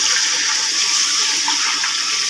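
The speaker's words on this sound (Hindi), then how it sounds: "अब इसमें पानी शामिल करेंगे।" Water gushes steadily into a pot of fried spices for Lahore-style daal chawal, a close, continuous hissing splash with no talk.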